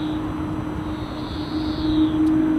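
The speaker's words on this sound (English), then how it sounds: "So, so the E2 just waiting for the Luxair to taxi past" A Luxair airliner taxiing at London City Airport, heard as a steady distant engine hum and whine that swells slightly toward the end, with no talk over it.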